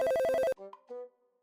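A telephone rings during a call with a loud, rapid electronic trill in evenly pulsed bursts that cuts off abruptly, followed by a few faint, scattered tones.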